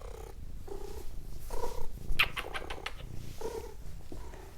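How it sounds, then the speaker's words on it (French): A cat purrs loudly and close up in rhythmic rumbling pulses, with a brief higher chirp partway through. "Qu'est-ce que ça ronronne fort, ces petites bêtes-là?"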